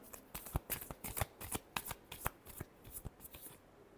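Tarot cards being shuffled in a quick run of crisp riffling bursts, each a sharp papery flutter, close and fairly quiet with no talking.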